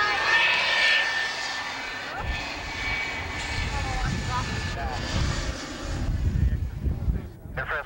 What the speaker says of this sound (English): What kind of planes are those? Those are F4s.